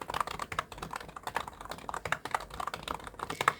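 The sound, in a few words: typing on a computer keyboard in Excel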